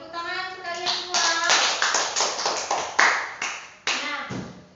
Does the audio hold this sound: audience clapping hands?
yes